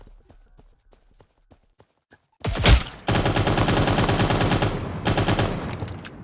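Automatic gunfire in the Cyber Hunter battle-royale video game: a few faint isolated ticks, then a loud sudden shot and a sustained rapid burst of fire that continues with a brief gap to the end.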